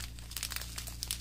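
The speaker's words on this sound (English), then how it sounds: "I said pause for crinkling, and then all I'm doing is crinkling." A plastic bag crinkles close and clear while embroidery thread skeins are unboxed, a quick burst of crackling and rustling over a low steady hum.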